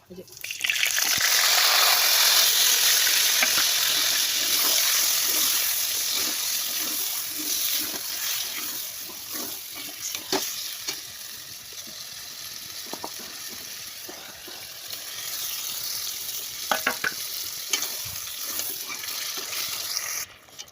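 Chicken pieces tip into a hot pan of oil with dried chillies and bay leaf for a curry, a loud burst of sizzling that settles into a steady fry with occasional pops and stirring, a voice talking over it.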